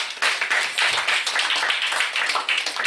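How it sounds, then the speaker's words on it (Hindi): An audience at a Glo Herbal Mart boot camp session in Manali claps loudly and steadily, dense overlapping hand claps filling the room throughout, with no talk over them. "तो साथियों जोरदार तालियां एक आप सभी के लिए।"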